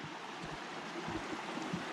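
A small creek flows across a forest trail beside the Middle Fork Snoqualmie River, giving a steady, close, broadband rush of running water without pause and with no voices.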